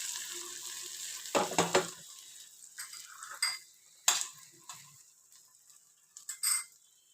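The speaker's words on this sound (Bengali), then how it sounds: "ডিমটাকে পুরোটা স্প্রেড করে নেবো এইভাবে" An egg sizzles and is spread across a pan already used to fry sweet corn and capsicum: a soft, low frying hiss broken by sharp scraping and tapping strokes, with no talking.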